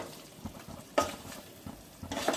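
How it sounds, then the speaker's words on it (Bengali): Chicken bhuna with curd stirred in a pan, a spoon scraping through the thick sauce over a low sizzle, with two sharper scraping bursts near the end and no talk. "ব্যাস এই দিয়ে এখন শুধুই নাড়তে থাকছে।"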